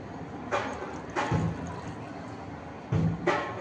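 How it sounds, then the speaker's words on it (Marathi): Water is poured into a mixer jar holding tomatoes in a few short splashing bursts, close and fairly quiet with brief pauses between pours. "आता थोडंसं पाणी सोडते"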